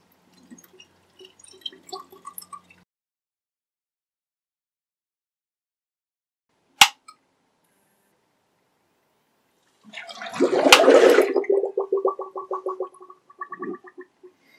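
Coolant poured into a PC custom water-cooling loop, with faint intermittent trickles, a single sharp click, then a burst of gurgling, bubbling liquid flow that tapers into sputtering drips.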